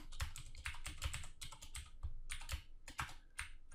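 Rapid, uneven typing on a computer keyboard, with close, crisp key clicks in irregular bursts and no voices.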